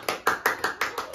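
Hands clapping in a steady rhythm, about six sharp, close claps spaced evenly over a second, clear and alone.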